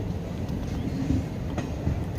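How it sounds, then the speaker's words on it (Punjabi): A train pulls into a railway station at Dera Baba Nanak, Gurdaspur, giving a loud, continuous low rumble of rolling wagons with faint rhythmic clanks over the top, close by and steady; no voices. "ਟ੍ਰੇਨ ਪਹੁੰਚ ਗਈ ਹੈ ਇਸ ਰੇਲਵੇ ਸਟੇਸ਼ਨ ਤੇ"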